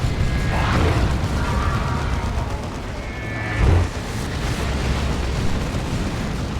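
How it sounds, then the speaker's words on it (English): Orbital bombardment in Dawn of War 2, Space Marines against Chaos Space Marines: a steady rumbling battle din with mechanical clanking and a brief, heavier thud of impact partway through. "Orbital bombardment going in."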